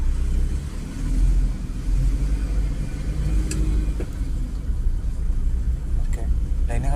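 A car drives and turns, its engine a loud, steady low rumble close by with slight swells of revving, while people talk over it at intervals.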